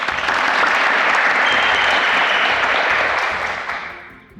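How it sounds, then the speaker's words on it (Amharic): Warm applause for a contestant at a competition, a dense burst of clapping from an audience that holds steady for about three seconds, then fades out. "ሞቅ ያለ ጭብጨባ።"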